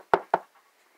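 Two sharp knocks, likely knuckles on a wooden door, sound close and loud with a short gap between them, then fade into near silence.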